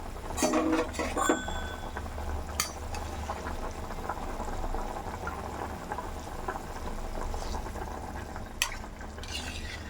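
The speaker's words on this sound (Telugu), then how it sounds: "ఇక్కడ వాటర్ అయితే ఉడుకుతుంది" Water heating in a pot for vegetable pulao, a faint, steady bubbling simmer with a few light clinks and knocks near the start, quiet and without speech.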